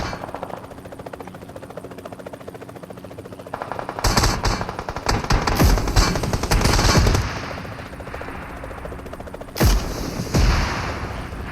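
Gunfire in the video game PUBG Mobile, with a quiet stretch that breaks into rapid bursts of automatic fire lasting several seconds, then a short pause and another loud burst near the end.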